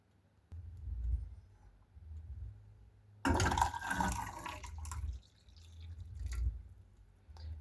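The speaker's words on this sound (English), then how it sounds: "I put 1 more cup of water" Water is poured from a cup into a pot on a kitchen stove in a short splashing gush, followed by faint drips and soft handling noises over a low hum.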